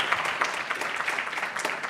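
Audience applause at a Smarties NEXT event, a dense, steady wash of many hands clapping together at moderate volume without a break.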